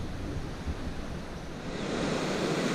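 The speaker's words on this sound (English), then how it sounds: "we've decided just to go for a walk along this beach here" Ocean surf washing onto a beach on one of the Mentawai Islands, a steady broadband rush with wind buffeting the microphone, swelling slightly louder toward the end.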